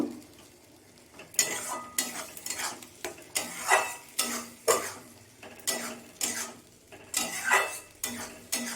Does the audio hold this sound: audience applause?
no